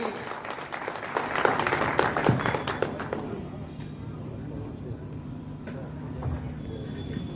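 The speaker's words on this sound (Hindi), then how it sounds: "जबरदस्त ताली होनी चाहिए।" A crowd applauds loudly at a political party's launch rally in Kushinagar, India, the clapping swelling for a few seconds and then fading into a low murmur of background noise.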